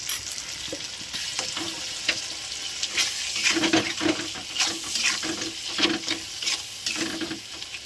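Cumin powder, red chili powder, salt and a ginger-garlic-tomato paste sauté in a pan for a rohu fish curry. A soft, continuous sizzle runs under frequent clattering, scraping stirs, close up and without speech.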